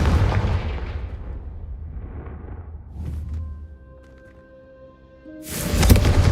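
Confringo spell blasts in Hogwarts Legacy: a loud booming burst that rumbles and fades, a softer impact at three seconds, a lingering magical tonal ring, then another sharp explosive burst near the end.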